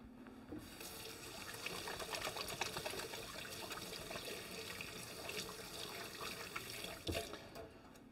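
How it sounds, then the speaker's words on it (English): Hands washed under a running kitchen tap, a steady faint rush of water splashing into a sink throughout, with a brief louder splash near the end and no talk. "My hands are dirty, I'm going to wash those again."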